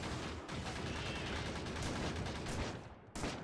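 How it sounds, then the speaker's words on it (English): Rapid bursts of shotgun fire in the factory-building game Factorio, loud and continuous with sharp repeated blasts, fighting off alien enemies across acid pools. "shotguns are really good"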